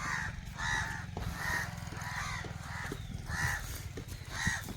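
Crows caw from a banyan tree in the Gir countryside of Gujarat, giving a string of harsh calls at a fairly regular pace over a low, steady rumble in the background.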